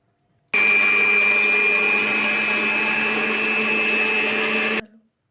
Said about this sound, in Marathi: आणि हे आता मी मिक्सरला बारीक करून घेते.